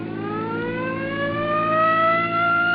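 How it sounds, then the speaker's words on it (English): A loud, steady car siren wail slowly rising in pitch, continuous and close, with no other sounds. "Come on, hit your siren."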